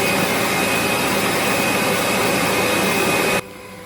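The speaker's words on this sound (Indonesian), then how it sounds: "Kocok menggunakan mixer kecepatan tinggi maksimal." An electric mixer beats cake batter at maximum speed, giving a loud, steady whirring roar close by that cuts off sharply near the end, with no talking.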